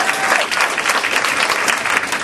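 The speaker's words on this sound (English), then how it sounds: "Let's give one more round of applause to Matt Kazan" A comedy club crowd keeps up steady, loud applause throughout, a thick continuous wash of clapping.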